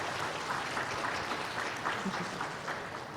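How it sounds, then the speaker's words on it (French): Audience at a large 2007 spiritual gathering in Philadelphia claps together in sustained, uniform applause, a thick wash of hands carrying on without a break. "xin các bạn nữa là cho một tràng pháo tay"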